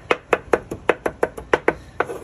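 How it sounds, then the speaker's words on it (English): A knife chops cilantro rhythmically on a cutting board, about ten crisp, close taps in quick succession with no talking. "I'm chopping my cilantro"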